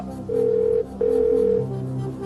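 A telephone rings out for a phone-a-friend lifeline call on the quiz show Kaun Banega Crorepati, two long electronic ringing bursts sounding loud and close, with no talk over them.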